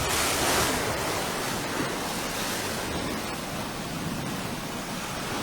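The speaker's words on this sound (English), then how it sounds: "the water is pretty rough out here today." Rough sea water at Gibbs Bay, waves surging and breaking in a steady, loud, unbroken wash with wind noise on the microphone, no talking.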